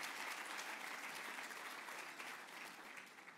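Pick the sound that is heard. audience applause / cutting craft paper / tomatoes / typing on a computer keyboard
audience applause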